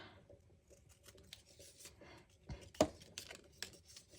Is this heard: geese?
no